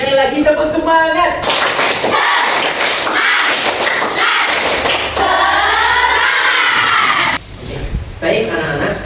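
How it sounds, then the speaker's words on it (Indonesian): Schoolchildren in a classroom repeat the 'tepuk semangat' clapping chant, loud rhythmic hand claps punctuating group shouts, with a teacher's voice briefly at the start and end. "Oke, sekali lagi tepuk semangat."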